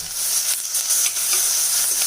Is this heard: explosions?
no